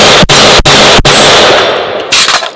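Three loud, sharp rifle shots from a SIG Sauer MCX Spear LT at an outdoor range, evenly spaced about a third of a second apart, each ringing out with a brief echo before fading.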